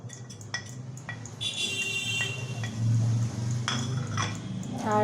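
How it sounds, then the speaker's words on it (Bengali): Tengra fish is mixed by hand in a bowl with ginger and garlic paste, chopped green chilli, turmeric and salt. Soft, wet squelching mixes with occasional close clinks against the bowl. "এবার মাছটাকে এগুলো দিয়ে মিক্স করা হচ্ছে।"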